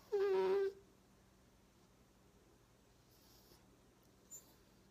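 Puppy giving one short, high whining whimper, close and clear, then near silence with a faint rustle later.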